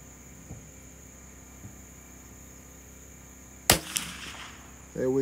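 A single sharp report from a CZ 457 Varmint rifle fired at a target cracks out loud and close after quiet outdoor ambience, followed by a brief echo and some handling noise.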